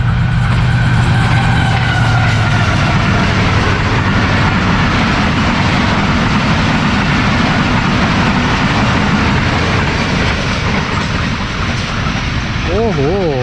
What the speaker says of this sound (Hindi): ये एक छोटा सा रेक गया है 45 आप पाकिस्तान एक्सप्रेस का टूवर्ड्स रावलपिंडी